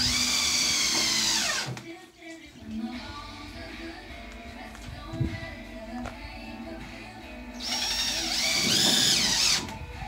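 Power drill driving screws into the floor of a wooden chicken coop, loud whining bursts at the start and end with quieter work noise between.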